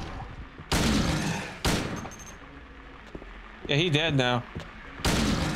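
Gunfire in the survival horror game Silent Hill 2, several loud close shots in separate bursts spread across the stretch, with excited talk and game sounds between them.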